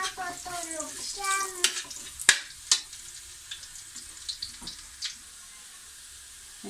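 Garlic frying in a pan until brown, a soft close sizzle with a few sharp clinks and scrapes of a utensil, fading to quiet crackle, with a voice speaking briefly at the start.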